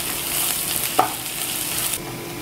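Ginger and green chilli frying in a pan for Karnataka-style potato poha, a steady broad sizzle with a single brief stir knock partway through, close and alone with no talking.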